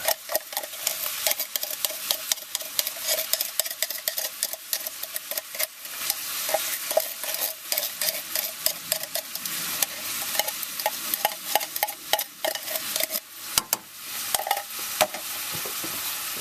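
Pulled pork and sauerkraut are stirred in a sizzling pan, with a steady frying hiss under repeated scraping strokes of a utensil close by and no voices.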